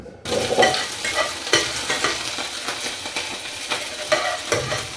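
Oil crackles and sizzles in a pan on the stove while spices temper and get stirred, with a busy spitting hiss that starts abruptly and keeps steady with sharp pops, and nobody speaks.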